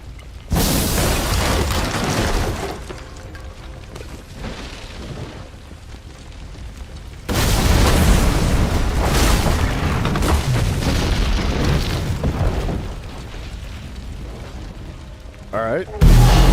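Explosions in Assassin's Creed Unity: two long, loud rumbling blasts, each rolling on for several seconds, close and heavy, with a brief voice near the end.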